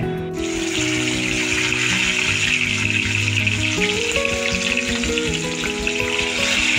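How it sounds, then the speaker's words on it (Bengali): Loud, continuous sizzling of spices frying in a pan, close up, with a faint background hum and no talking. "ওইখানটা ভাজা হচ্ছে"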